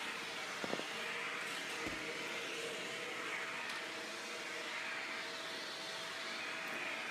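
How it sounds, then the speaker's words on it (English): Shark Rotator Powered Lift-Away canister vacuum with a hard floor attachment running on hardwood floors, giving a steady, even motor whine and airflow hiss throughout, with no talk. "The canister and the hard floor genie make short work on hardwood floors."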